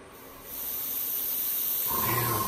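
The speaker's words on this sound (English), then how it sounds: "Air assist on, you'll be able to hear the compressor running, and yep, air's coming out there." A laser engraver's air assist compressor starts up and runs, a steady broadband hiss of blowing air that swells early and holds, with a higher tonal hum joining near the end.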